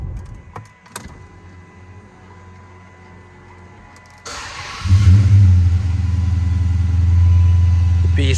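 A 2007 Chrysler 300C SRT8 muscle car starts up: a low idle rumble with a few clicks, then the engine fires at about four seconds and swells into a loud, deep, steady roar that holds close by until the end.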